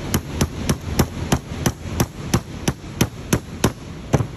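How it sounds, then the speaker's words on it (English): A small hammer taps a socket onto a DD15 truck engine's EGR valve actuator in a quick, even rhythm, roughly a dozen sharp, close metal strikes evenly spaced with no talking. "Take a little hammer,"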